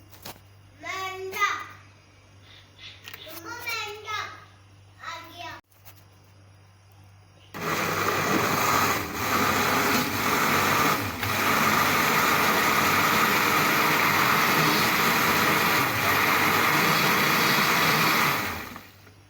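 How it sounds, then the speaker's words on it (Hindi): Banana shake with milk whirring in a kitchen blender, a loud steady grinding drone that starts abruptly after some talk and runs continuously to the end. "मैं इसको ग्राइंड कर रही हूँ।"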